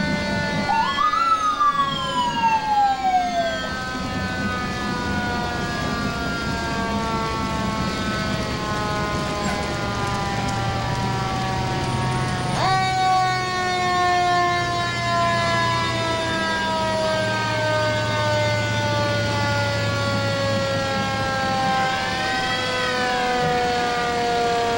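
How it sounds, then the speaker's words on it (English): A City of Hamilton fire truck siren wails through a Fourth of July parade, long rising and falling tones sounding loud and continuous, with engine rumble and crowd noise beneath. "You've got the ambulance, and you've also got the fire truck following that."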